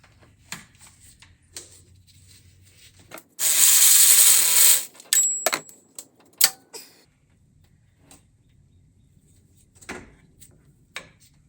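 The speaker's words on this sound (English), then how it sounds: "Now we're ready to get that last bolt out, which is right down here." Wrench work on the last bolt of a 2JZ AC compressor in a Lexus engine bay, with scattered clicks and ratcheting taps and one sustained loud rasping burst near the start.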